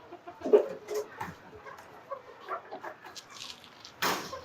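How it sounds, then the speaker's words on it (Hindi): Hens let out of their shed on a low-budget poultry farm cluck sporadically, soft scattered calls and short bursts at a modest distance, fairly quiet overall. "अब्दुल्ला भाई की मुर्गियां सारी की सारी बाहर आ गई हैं"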